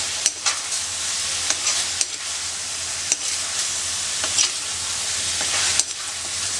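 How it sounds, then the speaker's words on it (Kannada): Chicken being stirred with turmeric, chilli, cumin, pepper and coriander powders in a pan, a steady sizzle of frying under repeated scraping clicks of a spoon, close and fairly loud with no talking. "ಇವೆಲ್ಲವನ್ನು ಈಗ ಚೆನ್ನಾಗಿ ಮಿಕ್ಸ್ ಮಾಡ್ಕೊಳ್ಳೋಣ."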